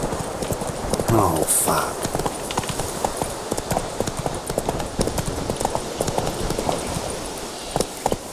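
Rhythmic hoofbeats of a horse galloping in The Witcher 3 video game, steady clip-clop close up, with a brief neigh early on and a voice speaking over it.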